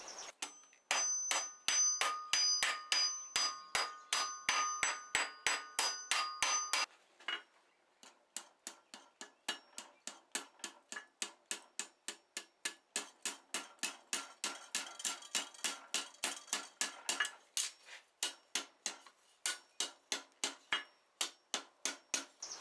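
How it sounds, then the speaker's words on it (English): A cross peen hammer dishes a hot steel hinge on an anvil, striking in steady rhythmic blows that ring brightly at first and then turn into duller, evenly spaced taps. "with my cross peen I'm going to try and dish this, put a crown on the bottom surface on the back side"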